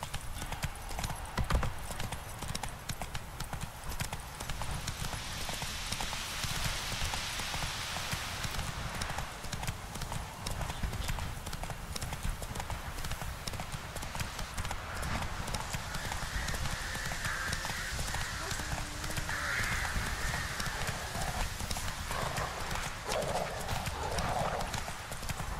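In The Witcher 3: Wild Hunt, a horse gallops with steady, loud clip-clop hoofbeats over a rushing ambient bed, with an occasional whinny and brief speech.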